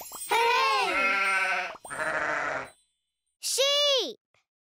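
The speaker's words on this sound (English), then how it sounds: "Sheep! Hooray!" Sheep bleating in the Yakka Dee children's show: three loud, close, wavering bleats, two in quick succession and a shorter third after a pause, each with a quavering, nasal tone.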